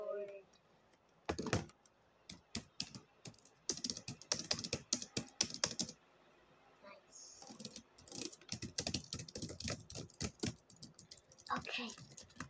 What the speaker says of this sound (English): And the last final reveal is the keyboard.